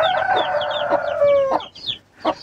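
A hen in a backyard coop gives a run of loud, close clucks and squawks, with agitated bursts and short pauses between calls, alone without talk.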